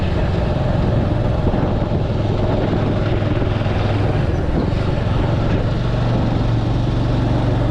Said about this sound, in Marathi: हे बघ गाडी गेली बा